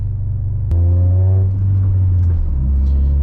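A steady low four-cylinder engine drone fills the clip inside a Honda Prelude, with a click followed by a deeper, louder exhaust rumble as the car drives on.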